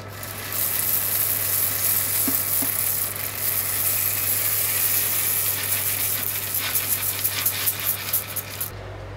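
Coffee beans roasting at home give a steady close sizzling, hissing rush with faint rattling, building toward denser crackles near the end before cutting off; no voices.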